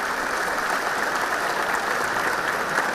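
An audience at a classroom lecture claps in dense, steady applause that fills the space evenly from start to finish, with no voices standing out above it.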